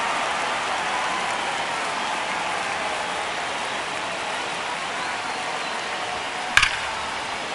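A steady, dense crowd roar from a baseball stadium crowd in the MLB The Show 26 video game, a ninth-inning one-run game, holding level throughout, with a brief sharp click near the end.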